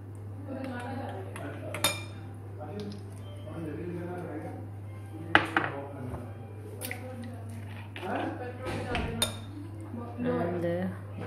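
Utensil clinks and soft squishing as vegan chocolate cake ingredients, including vanilla extract and vinegar, are stirred together in a bowl, with a steady low hum underneath and scattered sharp taps against the bowl.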